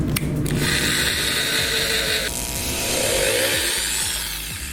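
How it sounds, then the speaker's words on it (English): A power drill with an 11/64-inch bit drills pilot holes for screws, whirring at high speed, its pitch shifting as the bit bites in, with some mechanical grinding underneath, close and loud. "I'm going to pre-drill my holes so that the screws will go straight."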